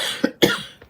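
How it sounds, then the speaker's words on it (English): Two quick coughs from one person close by, the second harsher and longer, followed by a faint throat noise. "and I'm coughing, sorry"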